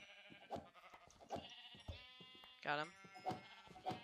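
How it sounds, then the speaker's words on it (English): Sheep bleating in a video game, several short bleats repeating at a steady pace amid other game sounds, with a person talking briefly over them. "Oh, sheep."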